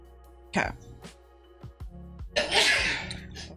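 A single sharp sneeze bursts out during a livestream, with brief breathy sounds and faint background hum around it, followed by a short rustle; speech is heard nearby.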